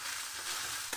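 Spiced fish cutlet filling stirred in a pan, a brief bright hiss of frying with a short scrape at the end, nearby and without speech.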